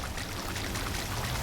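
Steady rush of water pouring continuously in Drain Sim while draining a flooded parking garage, close and full, with no voices over it.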